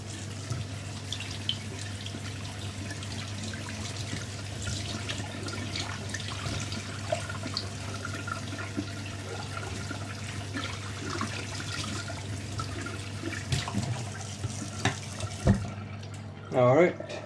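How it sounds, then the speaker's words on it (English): Liquid from canned maize being drained into a kitchen sink, a steady running and splashing wash with a low hum underneath, ending in a few louder clunks. "And now we're going to drain the maize."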